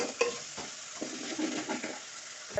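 Tomatoes and curry leaves frying in a pan, a steady close sizzle with repeated scraping strokes as the mixture is stirred, a few light metallic taps of the spoon against the pan.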